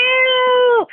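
A pet cat gives a single close, clear meow that rises briefly and then bends downward near its end, followed by a short moment of quiet.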